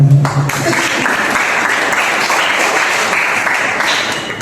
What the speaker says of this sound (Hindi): तो इन बच्चों के लिए बार बार तालियां हो जाए